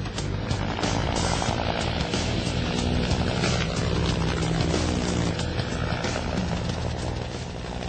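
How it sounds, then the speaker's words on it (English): A Cobra helicopter accelerates away from a hover. Its rotor thumps loud and close, with a dense, steady chop and a turbine whine for the whole stretch. "It's just amazing how fast a big helicopter like this gets up and goes."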